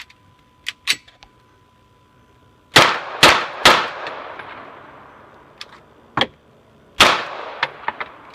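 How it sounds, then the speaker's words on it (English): Pistol shots from a Beretta 92FS firing through a converted magazine: about four sharp, loud reports in quick succession with ringing decay, plus a later pair, amid scattered metallic clicks and clinks of handling. "now we are going to shoot it out of a Beretta 92FS"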